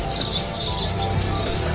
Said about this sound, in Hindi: हर घर आंगन में चहकने वाली गौरैया अब लुप्त होने के कगार पर है।